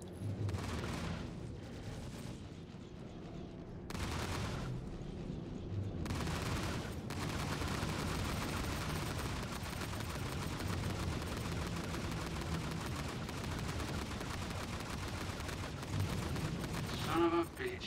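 Mech combat video game battle with sustained gunfire and missile launches, dense continuous bursts and booms throughout, with brief quieter gaps and a louder hit near the end.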